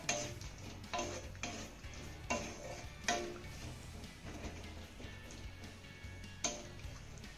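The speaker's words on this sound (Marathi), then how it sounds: "त्यानंतर हे सर्व साहित्य चांगलं मिक्स करून घ्यायचं आहे" A spoon mixes guava pieces with salt and sugar in a pan, giving steady rhythmic scraping and tapping strokes about once a second, moderately close, with no voices.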